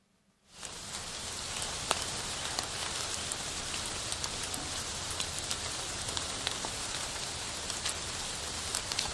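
Steady rain pours down across the whole stretch, a dense hiss with scattered sharper drop impacts on hard surfaces, starting abruptly and holding even loudness throughout, no voices.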